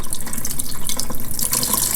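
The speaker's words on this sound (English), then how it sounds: "I do actually just rinse it out and then I will use it again" Aquarium filter floss rinsed under a running tap, water splashing and gushing with rhythmic surges as the floss is squeezed and moved, close and fairly loud, no voices.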